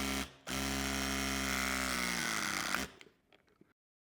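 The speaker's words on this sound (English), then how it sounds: "Now, I'm going to show you a 50mm cable lug being crimped with the indent tool." Klauke EKM60ID battery-powered indent crimping tool pressing a 50mm cable lug: a steady, loud motor whine runs for about two and a half seconds after a brief start, then cuts off and winds down, with faint clicks trailing into silence.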